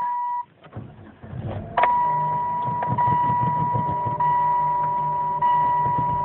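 A 2004 Saturn VUE being started: a chime sounds, the starter cranks briefly, then the engine catches and settles into a steady idle close by, with the chime tone continuing over it.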